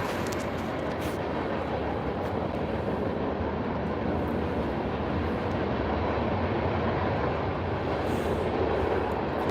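A steady, loud rumble of a passing train fills the whole stretch, broad and continuous with no pauses or voices.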